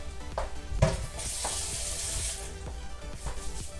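Protein pancakes sizzle steadily in a hot pan, a close continuous frying hiss with occasional soft clinks and stirring knocks, no talking.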